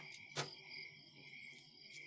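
Crickets chirp on a summer evening, a soft steady trill with a few brief louder pulses, faint and distant with nothing else over it.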